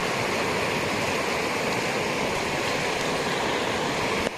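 Wild jungle river in Rajaji National Park rushing steadily, a loud, dense, unbroken roar of churning water close by with no voices.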